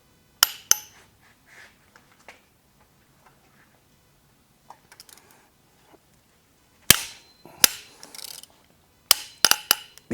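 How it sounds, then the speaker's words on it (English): Torque-to-yield head bolts on a 2017-or-later Hyundai Elantra engine cracking loose, sharp loud snaps in separate bursts with quiet gaps and lighter tool clicks between them, close up with no talk. "you'll hear that cracking and stuff"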